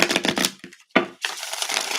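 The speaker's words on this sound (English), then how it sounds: "You notice even in my shuffling, it'll start shuffling and it'll stop for a moment" Tarot cards being shuffled by hand in dense papery riffling bursts that pause briefly near the middle before starting again, close and fairly quiet with no voices.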